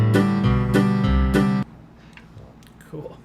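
A Strum Machine app plays back a strummed chord pattern with a set bass note, several even rhythmic strums for about a second and a half before cutting off to quiet room noise.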